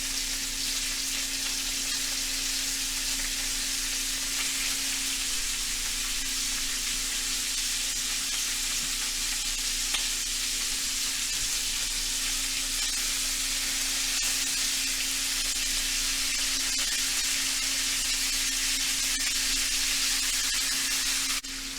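Large chunks of beef browning in a pan with salt, a steady, even sizzle and frying hiss that holds at a constant level throughout with no voices.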